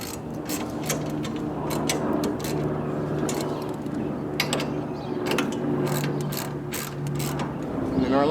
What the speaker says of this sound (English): We want to go ahead and tighten this bar down at this point so it doesn't move on us.